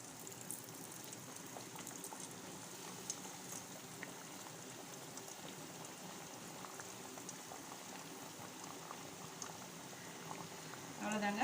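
Athirasam, a Tamil sweet of flattened dough, frying in hot oil, giving a steady crackling, bubbling sizzle that runs on evenly throughout at a moderate level, with a brief louder clatter at the very end.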